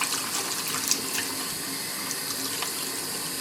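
A tap pours a steady stream of water into a sink for washing money. The hiss is constant and moderately faint, with small splashes and clinks, and nobody speaks.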